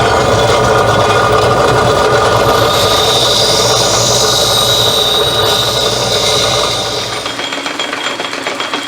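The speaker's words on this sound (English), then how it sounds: "This is my old CBN grinder," An old CBN grinder running steadily, giving a continuous loud whine and hum with a faint high tone that winds down near the end.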